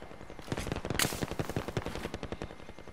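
Rapid automatic gunfire in the video game Call of Duty: Warzone, a fast steady stream of close, loud shots with one sharper crack near the middle, no talk.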